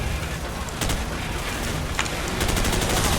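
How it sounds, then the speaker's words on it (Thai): Gunfire rattles steadily in a Call of Duty Modern Warfare mission as enemies shoot at the player, dense and loud with sharper cracks standing out, no talking over it. "โอ้โหเฮียแม่งยิงเข้ามา ไอ้เฮียเอ้ย"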